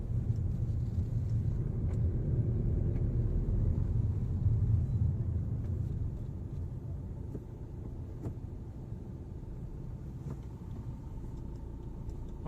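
A Maruti Suzuki Vitara Brezza engine pulls steadily while driving, a low continuous rumble heard from inside the car that eases slightly partway through.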